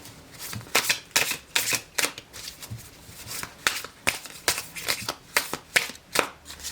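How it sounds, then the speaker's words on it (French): A tarot card drawn from the deck and laid down, heard as a close run of quick papery flicks and shuffling snaps in an irregular rhythm with no talk. "On va y reposer encore une carte."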